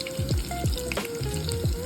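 Falafels fry in hot oil with a steady sizzle, punctuated by a few soft knocks and shifts as they are tossed in the pan, close and fairly loud with no voices.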